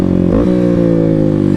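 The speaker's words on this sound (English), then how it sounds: "Ooh, clutchless downshifts." A Kawasaki KLX300 motorcycle engine drops through gears without the clutch, the loud, close buzzing note stepping down in pitch twice within a second and a half.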